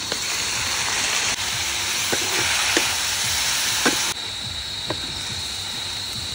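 Meat for Bicol Express sautés in a pan with a steady close sizzle, and occasional sharp clicks and scrapes punctuate the frying hiss.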